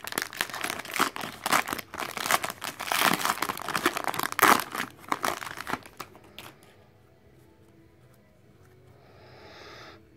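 A foil-wrapped 2016 Score football card pack is torn open with loud, close crinkling and ripping for several seconds, then falls quiet apart from a faint rustle near the end.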